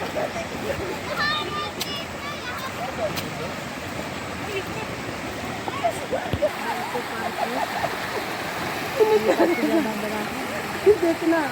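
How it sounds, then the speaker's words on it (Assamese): A stream runs through an eco park near the Seven Sisters Waterfall in Cherrapunji, giving a continuous rushing, splashing flow. People talk over the water throughout. "জুৰি বৈ গৈ আছে।"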